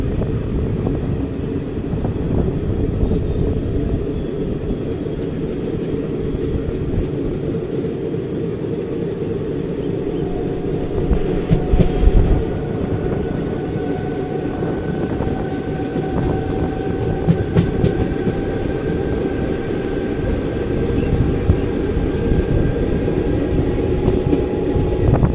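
The 17230 Sabari Express train running between Secunderabad and Palakkad, heard from inside an AC First Class coach: a loud, steady rumble with a few brief clicks and rattles throughout.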